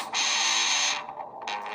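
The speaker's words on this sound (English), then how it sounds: "So that's some kind of open riff." Distorted electric guitar rings out an open metal riff, a dense sustained chord lasting about a second that cuts off and then sounds again briefly, loud and up front.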